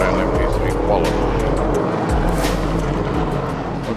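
LMP3 race cars leave the pit lane for qualifying at Le Castellet, with loud engines revving and droning close by and a commentator talking over the noise.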